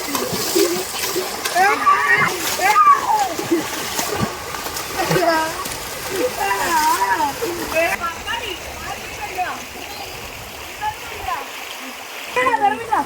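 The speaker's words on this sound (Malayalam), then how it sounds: "പിള്ളേരൊക്കെ കുളിക്കണമെന്ന് പറഞ്ഞ് അങ്ങനെ കുളിച്ചിട്ടിരിക്കുന്നു" Children splash and play while bathing in a clear stream fed by a waterfall at Nellettil, the water rushing steadily beneath intermittent splashes and children's voices.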